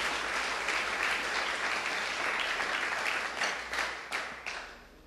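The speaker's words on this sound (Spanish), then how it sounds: "gracias por los aplausos, hermanos" A church congregation applauds during a sermon on prosperity, giving a dense, continuous roar of clapping that thins toward the end into scattered separate claps.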